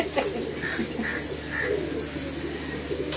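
A small pigeon on a rooftop gives a few soft, low coos in short separate bursts, fairly close, over a steady background hum.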